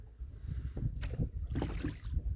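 A rowboat rowed across Lake Sonoma's Warm Springs Arm, with soft splashing oar strokes and water sloshing against the hull, plus light wind noise, close and fairly quiet.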